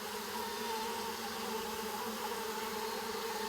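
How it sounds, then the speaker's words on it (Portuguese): Stingless bees hum around an organic honey hive in a dense, continuous buzz that stays steady and close throughout, with no talking. "Não precisa ter medo que essas abelhas não picam."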